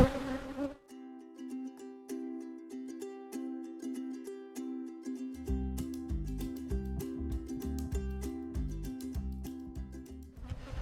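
Honey bees buzz around an opened hive during a weak-hive inspection, a continuous close drone with overlapping pitches and a lower pulsing layer joining partway through, no voices.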